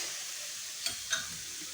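Momo filling with soy sauce being stirred in a pan, giving a soft continuous sizzle and hiss with two brief scraping clicks of the spoon, fairly close.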